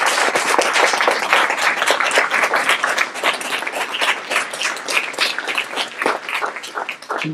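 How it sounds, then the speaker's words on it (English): A large audience applauds steadily, dense overlapping claps holding at a loud, even level throughout with no voices on top. "Let's have a big round of applause for this panel"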